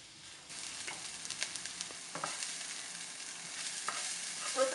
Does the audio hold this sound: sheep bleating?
no